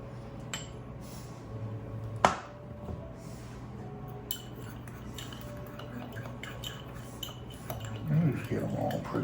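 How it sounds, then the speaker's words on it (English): Spices for pumpkin spice bread are mixed into the ingredients in a bowl with clinking utensil taps and one sharp knock, then scraping and stirring, all quiet and close, with a person talking now and then. "Let's go ahead and mix these spices in also."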